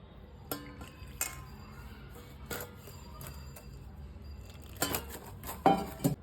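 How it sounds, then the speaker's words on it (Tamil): Warm water being poured over ragi flour, then the dough kneaded by hand in a bowl, giving soft wet squelches and occasional light clinks of the vessel against a steady low background hum, close and quiet. "அதை கொஞ்சமாக ஊற்றி பிணைய போகிறேன்."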